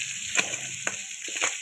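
Onions, green chillies and curry leaves fry in a pan, a steady sizzle with a few soft stirring scrapes over its short length.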